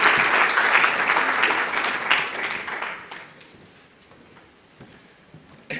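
Conference audience at an internet governance forum claps after a talk on artificial intelligence; the applause is full and lively for about three seconds, then thins and dies away into near silence.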